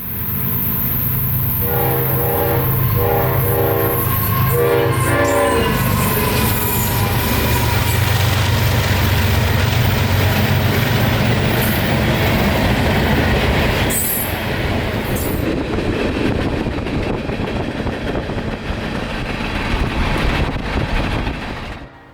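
CSX freight locomotives, including CSX 1776 and 3194, pass at full throttle with a loud engine roar, several blasts of the horn early on, then rumbling and clattering wagons and squealing wheels as the train goes by.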